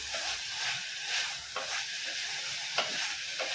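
A sweet mixture cooks in a pan over a low flame, a quiet bubbling sizzle with soft scraping strokes of stirring recurring every second or so. No one talks.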